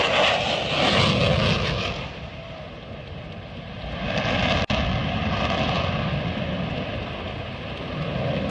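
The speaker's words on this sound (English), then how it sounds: "suddenly a fighter jet appeared and did a cool maneuver" A fighter jet roars past during a low maneuver near two parked planes, its engine noise swelling, fading, then surging again in a loud, continuous rush with no talk over it.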